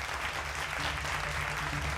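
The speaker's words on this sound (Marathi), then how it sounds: "जोरदार टाळ्या" Audience applause at an award ceremony honouring a group founder, a steady wash of clapping from a crowd for the whole moment, fairly even in level with no voices on top.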